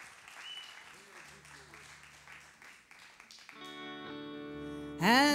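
Audience applause at a live stage show, clapping from a crowd that fades out before music begins.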